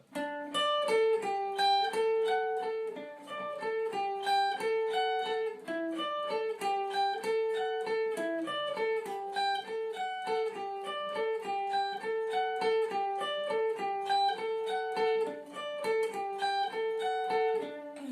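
A guitar plays a steady, bright arpeggio, plucked notes in a repeating rhythmic pattern an octave higher, clear and alone with no other sounds.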